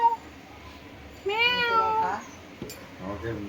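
A kitten gives one drawn-out, rising-and-falling meow at close range, followed by fainter, softer sounds amid light household background noise.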